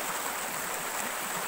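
Water flows steadily at Jawili Falls, a continuous broadband rush with no breaks, close and fairly loud, heard alone without voices.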